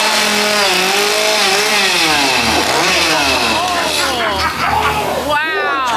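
A chainsaw engine drones and revs inside a Halloween haunted attraction at Busch Gardens Tampa, loud and continuous, with shifting pitch as voices shout and talk over it.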